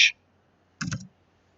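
Keys tapped on a computer keyboard while entering data into an Excel spreadsheet, a quick click followed after a pause by a short cluster of several soft taps, close and quiet.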